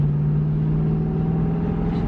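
A cold Ford Mustang GT/CS engine fitted with Borla ATAK mufflers holds a steady, low, droning hum at moderately raised revs, loud and close, with no voices.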